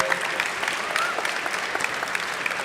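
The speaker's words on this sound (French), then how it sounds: "on va applaudir, s'il vous plaît," Dense, continuous applause from a convention audience at the Ankama Convention, steady and fairly loud with individual claps popping through the wash.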